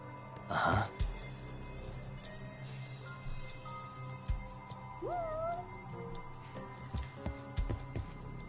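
A cat meows in the video game Judgment, one short rising cry in the middle amid quiet ambient game sounds, sparse thumps and a brief breathy burst near the start.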